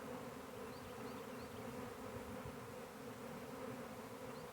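A honey bee swarm buzzing and fanning, a dense continuous drone of many bees, steady and close throughout with no talking.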